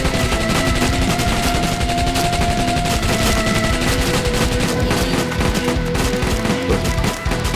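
A submachine gun fires in rapid sustained bursts in a video game, loud and continuous rattling gunfire with no gaps, and no voices over it.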